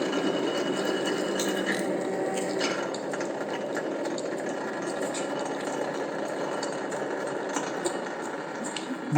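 A lathe cutting a thread on a workpiece, a steady mechanical hum with faint metallic scraping and ticking, continuous and fairly close throughout without pauses.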